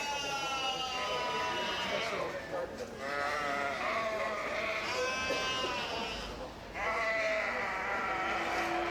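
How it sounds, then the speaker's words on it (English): Sheep at the Minnesota State Fair FFA livestock awards bleat repeatedly in long, wavering calls that overlap, loud and close, while an announcer talks over them. "The sheep are very excited to be here as well."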